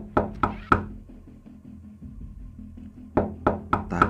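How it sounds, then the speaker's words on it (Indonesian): Knocking on a house door: three sharp raps, a pause with faint background sound, then four more raps, loud and close. "Saya datangi rumah bibi saya dan mengetuk pintunya"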